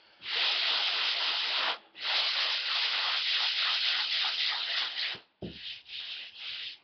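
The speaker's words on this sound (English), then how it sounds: "So just in a circular motion with a fine sander," Close, steady rasping of a fine sander on drywall spackle over nail pops, rubbing in long continuous strokes, a brief pause, then shorter scrubbing passes.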